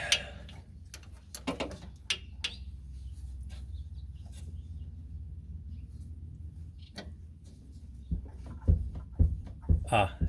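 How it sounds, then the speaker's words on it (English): The clutch pedal of an early Porsche 911, heard during a clutch adjustment: faint ticking and tapping, then several dull low clunks near the end, with some talking. "Hear the clunk? That's actually the clutch pedal moving."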